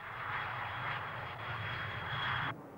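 A propeller airplane drones steadily overhead at moderate loudness, a broad engine roar that cuts off abruptly near the end.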